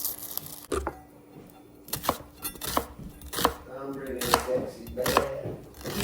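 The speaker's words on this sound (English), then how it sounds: "Not that anyone here doesn't know how to cut an onion." A knife chops through an onion on a cutting board, with several sharp separate thuds spaced about a second apart, close and fairly loud, and faint background sound between the cuts.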